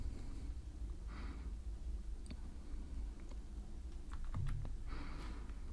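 Keys tap on a computer keyboard in a quiet room, with soft irregular clicks spread across the stretch and a denser burst near the end.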